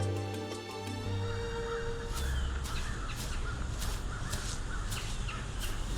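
Large loud caws, taken for a rhinoceros hornbill, ring out repeatedly in a mountain forest on Gunung Tilu in Kuningan, Indonesia, close and clear over a steady drone of insects and forest ambience.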